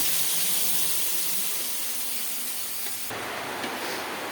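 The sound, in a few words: ground spice paste poured into cooking pan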